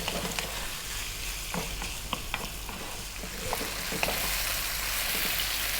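Bacon frying in a pan over above-medium heat, a steady crackling sizzle with scattered pops and occasional scraping as it is moved around, close and moderately loud with no talking.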